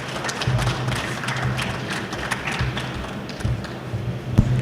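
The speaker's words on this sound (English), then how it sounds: "if you could help me in giving them a nice round of applause." Audience applause closing a live expert Q&A session on cutting tools, a soft patter of clapping hands that rises and fades over several seconds.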